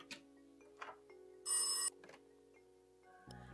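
A telephone rings once in The Darkside Detective, a short burst of bright electronic ringing over a quiet game background with soft ambient tones and a few small clicks, no voices.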